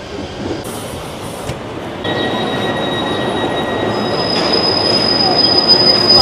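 A Swiss local passenger train running from Basel to Lucerne gives off a steady, high-pitched wheel squeal that holds over a continuous rumble of rolling stock and grows louder towards the end.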